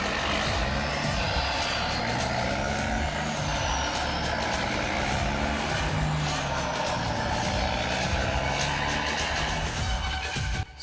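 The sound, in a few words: truck approaching in the jungle, Free Fire video game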